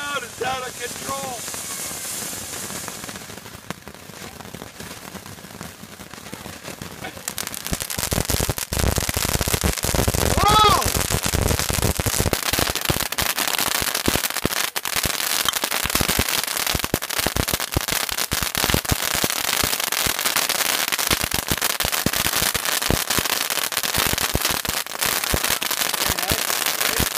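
Decades-old Fourth of July fireworks and firecrackers go off as a dense, continuous crackle of rapid pops. The crackle swells sharply after a quieter whistling start, and people talk and cheer throughout.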